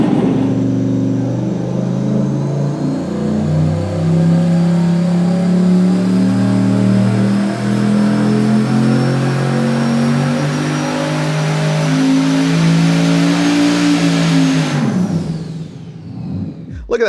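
A V8 engine fitted with an intercooler runs up on a dyno, a loud, sustained roar climbing steadily in pitch over about fifteen seconds before abruptly dropping off as the throttle closes.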